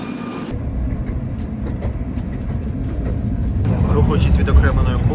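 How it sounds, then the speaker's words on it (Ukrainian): A Tatra tram accelerates on Odesa's long North-South tram line, its rumbling motor and wheel noise building steadily louder from close by inside the car, with a brief voice near the start. "Е, я просто в шоці, як розганяється татра"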